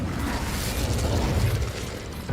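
A fire spell such as Confringo or Incendio in Hogwarts Legacy bursts into a dense, roaring whoosh of flame and crackle that holds steady and loud for a couple of seconds, with no voices over it.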